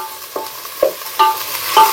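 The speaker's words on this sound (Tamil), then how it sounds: "வதங்கறதுக்கு உப்பு சேர்த்துக்கோங்க." Onions sizzle and are stirred in a pan while chicken biryani is being made, with scraping stir strokes at regular intervals over a steady frying hiss, all close by and without voices.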